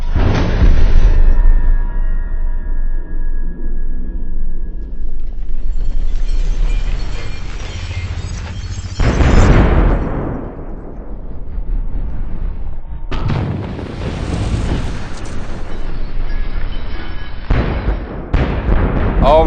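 A .50 caliber rifle firing into coated steel armor plates outdoors, with several loud booming blasts and impacts, each followed by a rumbling tail, and a few spaced heavy shots across the span.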